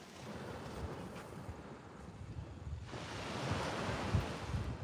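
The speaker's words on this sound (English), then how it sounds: "We're hearing some waves today, are we? Small little waves." Small ocean waves rolling in at high tide on a Nova Scotia beach, a soft continuous wash with wind buffeting the microphone, growing fuller as a wave breaks toward the end.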